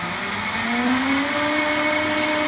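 A Vitamix 7500 blender whirs loudly nearby, its motor pitch climbing as it chops chunks of carrot for soup, steady and continuous without any voices.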